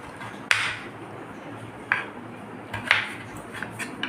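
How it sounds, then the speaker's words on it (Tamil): Peeled potatoes being cut into small pieces give a few sharp knife clicks and taps on a board, spaced irregularly and fairly faint against a quiet kitchen, with no talk. "உருளைக்கிழங்கு சீவிட்டு இதை வந்து குட்டி குட்டியாக நம்ம கட் பண்ணிக்கிடுவோம்"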